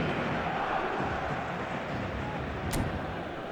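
Stadium crowd noise in a football video game: a dense, steady roar of a passionate evening crowd, loud and continuous throughout, with a brief sharp spike near the end.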